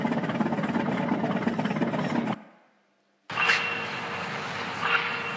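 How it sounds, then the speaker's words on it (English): A ship's engine recorded underwater: a steady, dense low rumble with broadband noise, cutting out briefly to near silence before resuming just as loud with a faint tonal hum. "That's the noise from a ship's engine."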